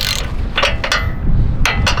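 A socket ratchet clicks away at the power steering rack bolt on a Chevy Silverado during a leveling kit install, several short bursts of close, crisp pawl clicking with brief pauses between strokes.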